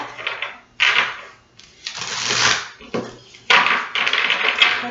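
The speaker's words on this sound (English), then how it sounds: "one more shuffle here and then cut" A deck of tarot-style reading cards is shuffled and then cut, giving close, papery riffling and slapping bursts that start and stop irregularly, with no talking over them.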